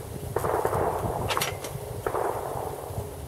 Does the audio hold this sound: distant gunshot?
yes